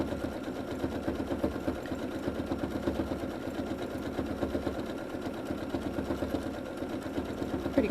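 Sewing machine running steadily through free motion quilting on a quilt block, a fast continuous needle chatter with even rhythm, close and moderately loud throughout, no voices.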